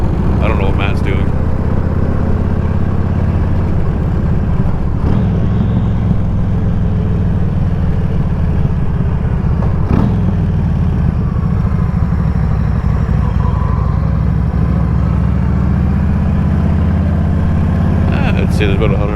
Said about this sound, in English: I'd say there's about 150 bikes here.